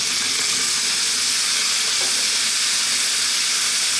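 Tuna hitting a hot pan of onions gives a steady, loud broadband sizzle and hiss that carries on evenly throughout, with no voices.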